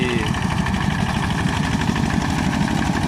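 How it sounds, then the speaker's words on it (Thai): A rice-farming tractor engine idles steadily, a constant low chugging rumble with faint vibration, close by and unbroken. "วันนี้มาดูรถไถนาครับ"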